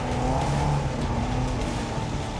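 A car engine at the Exeter Trial, a classic motoring trial, drones steadily and loudly with a low, throaty rumble and slight rises in revs. It runs throughout with no talk.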